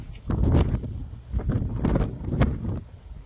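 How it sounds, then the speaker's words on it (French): Strong wind blows on the Gibraltar coast after a night-long storm, buffeting the microphone in irregular loud gusts that rise and fall, with no talk. "Toute la nuit, il y a eu du vent. Toute la nuit. Et là, ça continue encore."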